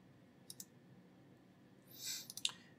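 A computer mouse clicking in a browser window, a couple of faint sharp clicks early, then a soft scrolling rustle and a quick run of closer clicks against quiet room hiss.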